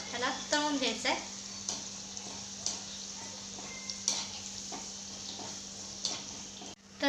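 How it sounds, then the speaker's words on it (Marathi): Gulab jamun dough balls frying in hot oil give a steady, quiet sizzle with soft bubbling and occasional ticks of a utensil, a voice briefly heard at the start. "चला आता आपण अशा पद्धतीने सर्व गोळे तळून घेऊ"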